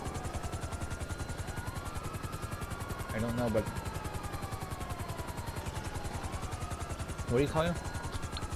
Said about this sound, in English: My helicopter is right here.